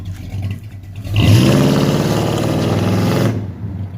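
A 1974 Chevy Caprice Classic with a new exhaust and rebuilt rear end pulls away, the engine swelling into a loud, close acceleration roar that holds for about two seconds before easing back to a lower rumble.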